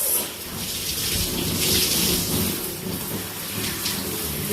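Running water pours steadily as hair with locs is rinsed during a wash, a continuous close hissing splash with no talking.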